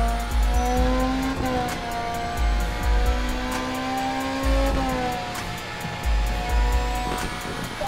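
A Ferrari racing car laps Fiorano in the Ferrari Challenge game, its engine whining up and down through gear changes with repeated revving climbs, tyre squeal and low thumps as it brakes and accelerates, loud and close.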